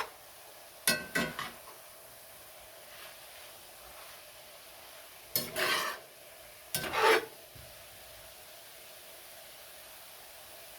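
A spoon scrapes and stirs sriracha into ground turkey and rice in a container, producing a few separate bursts of rasping, rubbing strokes with quiet gaps between them, close and alone.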